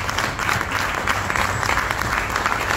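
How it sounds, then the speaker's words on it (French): Applause from the audience at the closing ceremony of a parasitology congress in Gabon, with dense, continuous clapping filling the hall and loud throughout, no talking. "je vous invite à faire un standing ovation, un gros bruit, un gros banc comme on dit"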